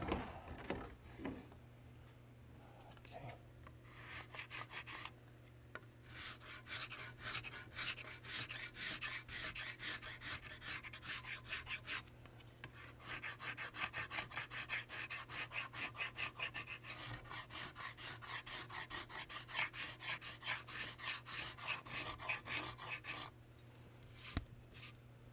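A cabinet scraper cuts the wood of a 1903 Springfield rifle stock, making a close, steady rasping scrape of repeated strokes that runs nearly continuously with brief pauses.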